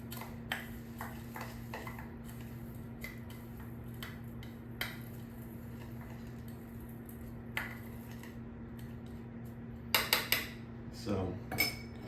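A utensil scrapes and taps in a bowl while panko breadcrumbs are mixed with melted butter and parsley, quiet intermittent clicks through a low hum, with a louder cluster of clinks near the end.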